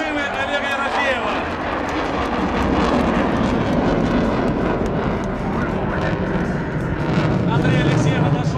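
Jet engine of an aerobatic aircraft at full afterburner during a solo display, a loud continuous roar that stays steady across the whole stretch, with a voice commentating over it.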